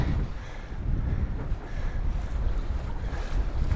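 Strong wind roars and buffets the microphone during wing foiling on choppy open water in extremely cold weather, a steady low rumble with wave wash, no voices.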